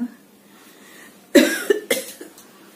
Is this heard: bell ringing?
no